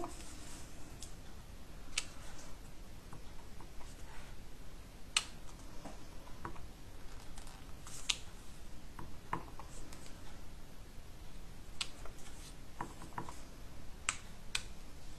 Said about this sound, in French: Donc là, je vais pouvoir tamponner mes étoiles.